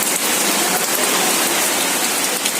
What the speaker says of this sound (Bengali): তারপরে এই বৃষ্টি আরম্ভ হয়েছে